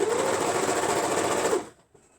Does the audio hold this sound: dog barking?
no